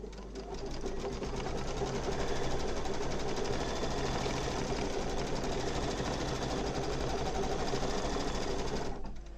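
An embroidery machine with a magnetic hoop stitches the backing onto a patch, running at a steady, loud, rapid mechanical clatter that holds without a break for the whole stretch before stopping at the very end.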